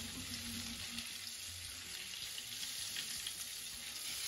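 Coconut-crusted crayfish frying in hot oil, a steady, soft, continuous sizzle with faint crackles and no voices.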